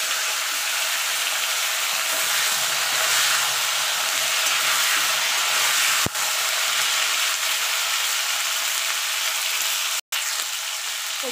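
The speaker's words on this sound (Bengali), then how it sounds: "আমি ফুলকপি আলুটা একসঙ্গে ভেজে নেব" Cauliflower and potato fry together in hot oil in a pan, a dense, steady sizzle running throughout with two brief clicks or breaks near the end.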